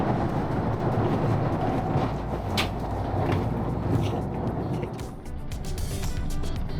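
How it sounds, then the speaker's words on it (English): A continuous low rumble and rattle of a train moving through the 8 km Great Belt Railway Tunnel in Denmark, steady throughout with faint clanks. "We are currently passing through the 8 km long Great Belt Railway Tunnel"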